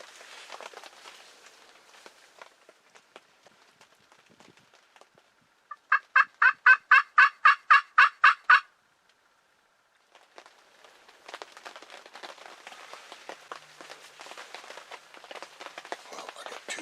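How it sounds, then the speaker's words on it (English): Wild turkeys gobble during a spring hunt in the Maine woods. A loud, rapid, rattling run of gobbles comes in the middle, with soft rustling and footsteps in leaves before and after. "I got 2 birds up there gobbling, at least"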